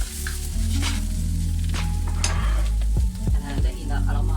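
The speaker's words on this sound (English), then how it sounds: "Stir fry the dry shrimp first." Dried shrimp stir-fry in hot oil in a wok, a loud steady sizzle with a low hum beneath and a few scraping stirs of a utensil toward the end, close by and without voices.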